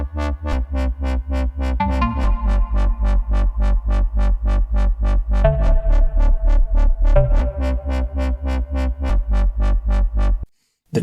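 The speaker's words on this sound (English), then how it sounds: "One of them is a kind of wobbly, dubsteppy type of bass, and the other one kind of has a bit of a garagey feel to it" Two electronic basslines, one a wobbly dubstep-style bass and the other a garage-style bass, play interlocking rhythms under a steady, punchy four-on-the-floor beat. The mix is loud and dense, and it cuts out abruptly near the end.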